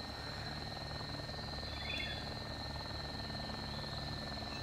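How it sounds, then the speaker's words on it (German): A helicopter flies around in the Arma 2 DayZ mod game, a steady, faint, distant rotor drone that holds evenly throughout. "Oh, Heli kommt."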